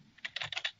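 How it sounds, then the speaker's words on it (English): A computer keyboard being typed on: a brief run of five or six quick, light keystrokes in an uneven rhythm, fairly faint and close, with no voices. "Keyboard's going."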